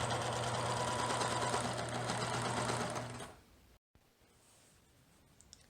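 A serger overlocks the raw fabric edges of pants pieces with a loud, steady, fast whir for about three seconds, then stops, leaving a quiet room.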